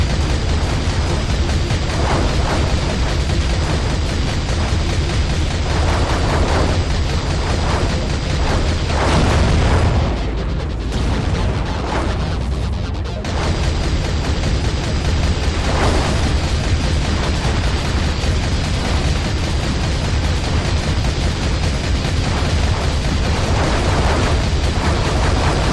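Dense, continuous underwater explosions and booming rumble fill the Aquanox video game as a target is destroyed, loud and relentless with only a brief dip midway.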